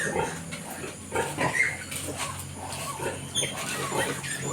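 A mother pig gives birth to newborn piglets in a farm pen, with soft grunts and small squeals close by over a steady background hum.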